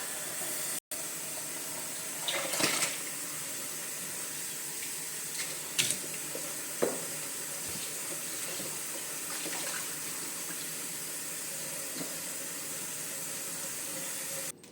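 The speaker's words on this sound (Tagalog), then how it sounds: "Hugasan naman natin yung baka." Beef being washed under a running kitchen tap, a steady soft stream of water splashing in a sink for the whole stretch, with scattered light knocks and handling noises.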